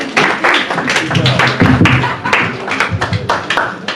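Loud, close applause from a youth retreat crowd, dense clapping with sharp individual taps and scattered voices throughout.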